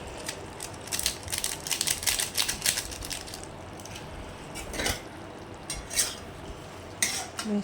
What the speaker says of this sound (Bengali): সুন্দর করে নাড়াচাড়া করে দেখো